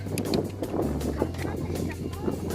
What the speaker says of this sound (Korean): 아 진짜 바람이 엄청 불고 있죠 지금